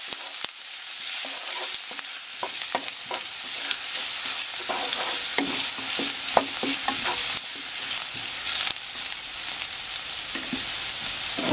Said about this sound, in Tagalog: mainit na itong cooking oil natin. So, lagay po natin yung garlic. So, hintayin natin mag-brown itong garlic.